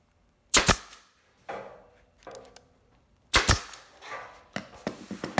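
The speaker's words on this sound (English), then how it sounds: "And then we're gonna staple." A staple gun fires fabric onto a homemade ironing board in a few sharp, loud snaps spaced over several seconds, each followed by brief rustling and handling noise.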